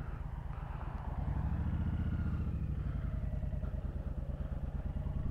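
Honda Fury motorcycle pulling away as the rider lets the clutch out, its engine a steady, close rumbling drone that swells slightly as it gets moving, with no talking over it.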